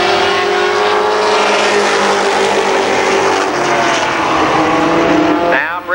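Legends race cars roar together around the oval at Columbus Motor Speedway, a loud, steady pack of engine drone holding throughout, with a rising whine at the very end as a car accelerates.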